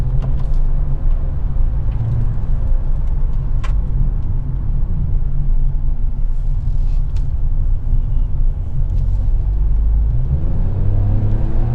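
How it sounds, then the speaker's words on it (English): A Hyundai i20 N-line in sports mode, shifted with paddle shifters, drives on the road with a loud, constant engine drone and low rumble heard from inside the cabin, rising slightly in pitch toward the end. "So now I'll just put the car in sports mode and I'll use the pedal shifters."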